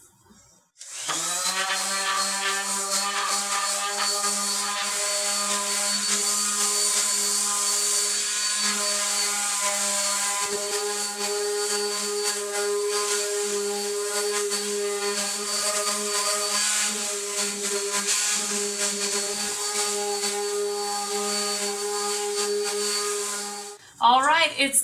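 A power sander working over a small wooden box with a sliding lid using 120 grit sandpaper, a steady loud whirring hum that runs continuously for the whole stretch before cutting off at the end.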